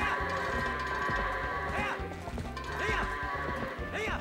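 Goats bleat inside Zelda: Twilight Princess while being herded into a barn, three rising calls spaced about a second apart over steady in-game music and faint trotting hoofbeats.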